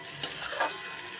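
Kande pohe gets stirred in a large kadhai, with two quick scraping strokes of a spoon over a soft steady sizzle.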